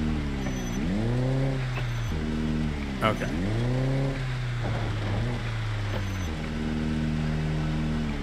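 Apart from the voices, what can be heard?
car reversing in Project Zomboid video game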